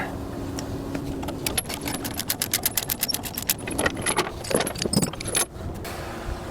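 Metal chains rattle and clank in quick bursts as they are unhooked from a brand new JCB 457 wheel loader on a trailer, loud and close, with a steady engine hum underneath.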